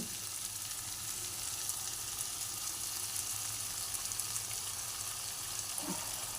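Spice paste for Bengali potol dolma frying in oil, a steady, gentle sizzle and hiss from the pan, quite soft and continuous with a faint stir or clink near the end.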